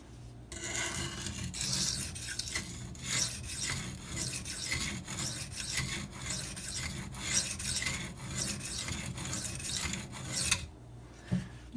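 A Maxamet steel knife blade rasps continuously across Venev diamond sharpening stones in steady back-and-forth strokes, close and even in loudness, with no talking, then stops briefly near the end.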